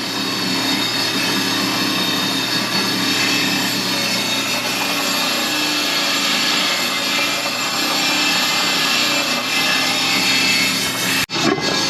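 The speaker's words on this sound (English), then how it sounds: "What he's doing now is running them across the wire wheel." A wire wheel grinder runs steadily as John Deere 750 drill gauge wheels are pressed against it to scrub off old rubber residue, a continuous loud abrasive whir and rasp that cuts off briefly near the end.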